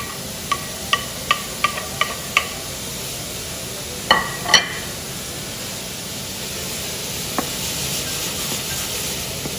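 Mushrooms and peppers frying in a pan with leek, a steady soft sizzle under a row of light clinks and a couple of louder scraping knocks from stirring, with no talking.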